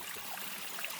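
A small mountain stream on the Appalachian Trail in New Hampshire's White Mountains, a steady close rush and trickle of running water with no voices.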